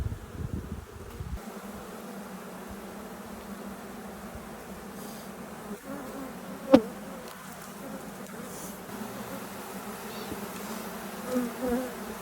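Honey bees buzz steadily in a full, agitated hive, a dense continuous drone close by with brief louder bumps near the middle and end, no talk over it.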